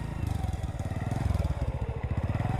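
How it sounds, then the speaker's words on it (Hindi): A motorcycle turns and pulls up, its engine rumbling close and loud with a fast, steady pulsing throb that stays level for the whole stretch, with no talk over it. "राहुल अपनी बाइक मोड़कर आयशा के ऑफिस के नीचे पहुंचता है।"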